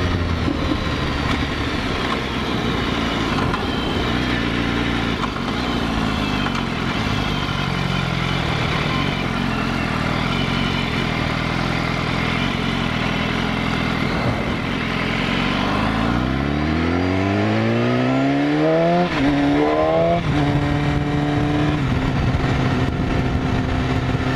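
A 2015 BMW S1000RR motorcycle cruising at night around 90 km/h, its engine droning steadily with wind rush, then the revs dropping and rising through gear changes near the end.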